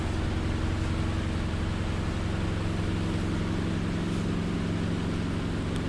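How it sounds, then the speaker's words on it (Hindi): An LG Smart Inverter washing machine in spin mode gives a steady machine hum with low tonal drones, running without a break at a constant moderate level. "तो कुछ इस प्रकार से इतनी आवाज़ है इस मशीन की स्पिनर मोड पे।"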